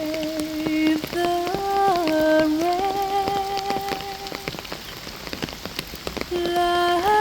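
Steady rain patters on a surface throughout, mixed with a soft melody of sustained hymn-like tones, Amazing Grace, that fade in and out over the pattering drops.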